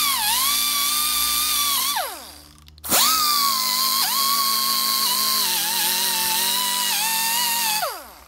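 Power drill fitted with a small wheel attachment cleaning a used throttle body from a Mercedes-Benz SLK320, whining steadily at high speed, with a brief stop and restart and slight pitch dips as it presses on the metal.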